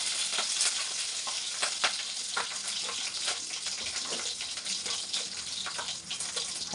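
Green chillies fry in hot oil with mustard seeds and curry leaves, a loud, continuous close sizzle with crackling pops throughout.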